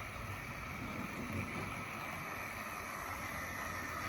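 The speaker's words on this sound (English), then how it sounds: "Lovely noise coming from the motor." A Tri-ang Hornby model train motor runs on track with a continuous, even whirring hum and faint rattle, steady and fairly quiet throughout, with no talking.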